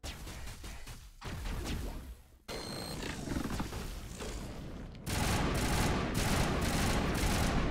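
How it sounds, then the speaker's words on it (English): A weapon fires in three-shot bursts in the sci-fi shooter Mass Effect. Sharp, loud shots crack in quick clusters over heavy combat noise, growing denser and louder toward the end. "Three-shot burst, I like it."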